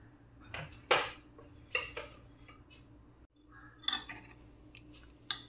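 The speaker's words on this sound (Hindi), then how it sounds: "कुकर का ढक्कन खोलते हैं।" A pressure cooker lid is handled while opening it after cooking rajma. Sharp metallic clinks and scrapes come in a few separate bursts, close by and fairly quiet, with no talking.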